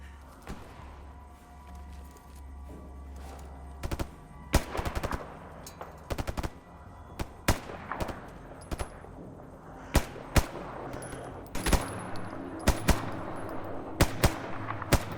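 S.T.A.L.K.E.R. gunfire rings out from a high bridge above a bandit base: sharp single shots and short bursts spaced irregularly, growing more frequent toward the end over a low steady background hum.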